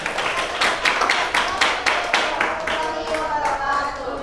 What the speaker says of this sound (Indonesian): Beri tepuk tangan untuk penampilan yang ketiga.